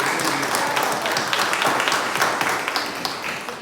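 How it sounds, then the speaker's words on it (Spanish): Congregation applause at a church service, a dense wash of clapping that holds steady for several seconds and thins slightly toward the end. "Por favor, hermanos, un aplauso a la hermana."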